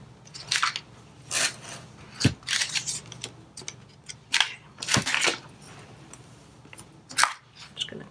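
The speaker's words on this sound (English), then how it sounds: "Just going to cut it with my favorite scissors." Favorite scissors snip through decal vinyl in short crisp cuts, irregularly spaced bursts of close snipping and crinkling against a quiet background, with no talk.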